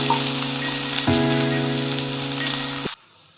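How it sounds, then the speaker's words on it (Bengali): Chopped onions sizzle loudly and steadily in a frying pan, a dense continuous hiss with a faint scrape partway through, cutting off abruptly near the end. "এবার আমি পেঁয়াজ কুচোগুলোকে দিয়ে এবার ভেজে নেব।"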